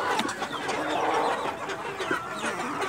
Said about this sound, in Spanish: acá tenemos a las gallinas que ya van a poner huevo